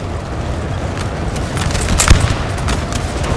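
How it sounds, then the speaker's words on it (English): Cannon fire in Napoleon Total War, a low rumbling boom peaking near the middle over a dense, continuous battlefield din of distant musketry and noise. "Oh, that was pretty nice actually from the cannon there"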